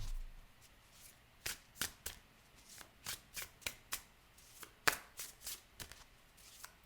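Oracle cards being shuffled by hand, a series of soft, crisp riffling bursts in an irregular rhythm, close and quiet in an otherwise still room.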